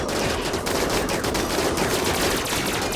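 Automated turret gunfire in the colony-building video game RimWorld, a dense continuous rattle of rapid shots sustained at steady loudness throughout with no talking.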